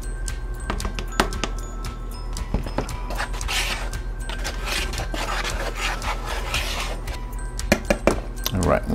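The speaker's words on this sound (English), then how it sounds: "we're gonna whisk together the flour and the baking soda" A whisk rubs and clinks against a bowl as flour and baking soda are mixed for chewy chocolate chip cookies, with irregular scraping strokes and small taps close by, under a person talking.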